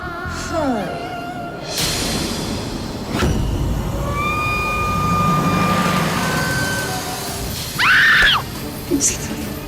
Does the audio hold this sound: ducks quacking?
no